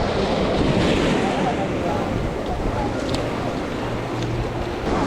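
Ocean surf washes steadily onto the beach at Kanyakumari, a loud broadband roar with wind buffeting the microphone, while voices talk faintly through it.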